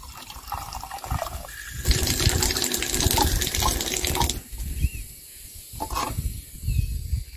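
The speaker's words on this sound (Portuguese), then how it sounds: "aqui tem uma torneira. Aí a pessoa só chega aqui, ó, tem água ainda, ó." An old tap at an old family house pours water steadily, with splashing that rises and falls as the stream strikes below. It is close and fairly loud, with no talking.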